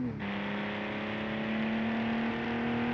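A 1960 sports car engine in a racing video game holds a steady, loud, droning rev, rising slightly in pitch after a brief shift at the start and sustaining alone throughout.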